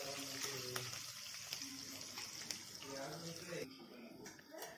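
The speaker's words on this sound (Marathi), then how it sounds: "आता आपण ते छान परतून घेणार आहोत." Peanuts and chopped green chilies roasting in a pan give a quiet, continuous sizzle with occasional light stirring, while a voice talks over it.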